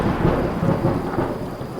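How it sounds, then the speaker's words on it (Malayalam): Thunder and rain sound effect for a dark stormy night, a loud continuous rumble of thunder layered over steady heavy rainfall, with no voices. "അങ്ങനൊരു ദിവസം നല്ല ഇടിയും മഴയുള്ളൊരു ഇരുണ്ട രാത്രി."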